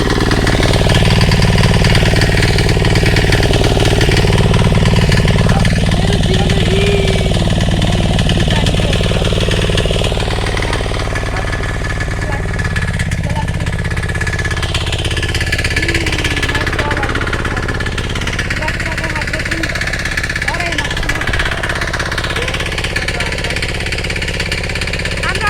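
Engine of a machine plowing a field, a loud continuous mechanical drone with rattling vibration that drops slightly in level partway through, with voices talking over it.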